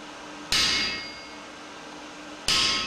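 Two loud, ringing metallic blows about two seconds apart, each decaying slowly, as blacksmiths strike a hammer onto a splitting chisel driven into a hot forged workpiece, close and without talk.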